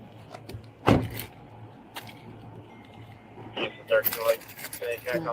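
Car keys jangle in a sharp metallic burst early on, with more clinking and handling noises later, while people argue in the background.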